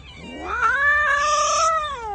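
A young kitten meows once in a long, loud, rising and drawn-out cry, close and alone.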